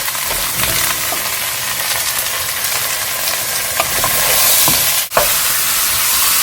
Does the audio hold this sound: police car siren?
no